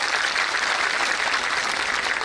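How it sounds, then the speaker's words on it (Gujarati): A large audience of around three thousand Patidar women at a convention in Patan breaks into dense, sustained applause, a continuous wash of clapping with no talk. "એમને જોરદાર તાળીઓના ગડગડાટથી બતાવો."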